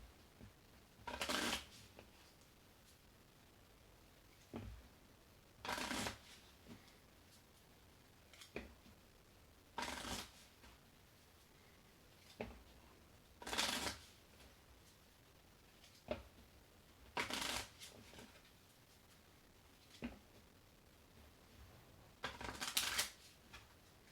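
A deck of game cards being shuffled in repeated short riffling bursts about every four seconds, each burst close and crisp with quiet pauses between, no talking.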